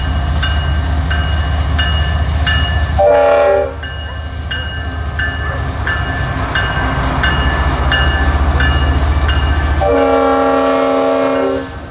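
A train passing close at night in Florida, sounding its horn in two loud blasts over a steady low rumble and rhythmic clatter of wheels on rails.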